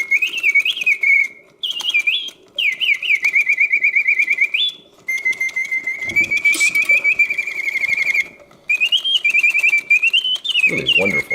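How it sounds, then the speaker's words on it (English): A vintage Reuge double singing bird cage, a mechanical automaton, plays continuous chirping, warbling whistled trills from two birds taking turns, loud and close with brief pauses between phrases. "The birds take turns singing."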